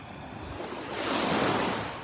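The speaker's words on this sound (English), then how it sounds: "The wake is just hitting the beach here." Boat wake waves wash onto a calm Gulf beach at Delnor-Wiggins, a soft steady lapping that swells into a louder rushing surge midway and then eases off, with no voices.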